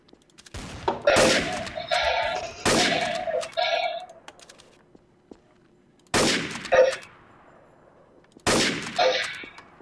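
Gunfire in the video game Trouble In Terrorist Town, sharp bursts of shots in separate clusters with silent gaps between them, loud and close, with no voices.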